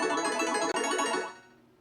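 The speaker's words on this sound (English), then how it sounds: "the first one that I really want to do is that slot machine win" A bright, jangling electronic slot machine win jingle with rapid ringing tones swells briefly, then fades out over under two seconds.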